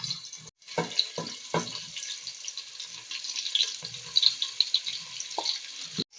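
Chopped onion sizzling in a little oil in a pan for a chicken dish, a steady soft crackle with occasional clunks and stirring knocks, fairly quiet throughout.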